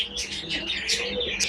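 A pair of domestic pigeons in a loft, nesting on eggs with hatching chicks, giving soft repeated coos and chirps close by throughout, with no talk.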